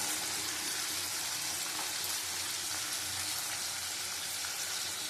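Chopped tomatoes with cumin powder and other spices fry in a pan, making a steady, dense crackling sizzle, close and unbroken, with no talking.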